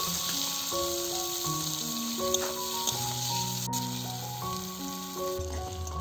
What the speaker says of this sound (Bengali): এরপর দিচ্ছি 2টো মাঝারি মাপে পেঁয়াজ কুচি। পেঁয়াজগুলোকে একটু ভেজে নিচ্ছি।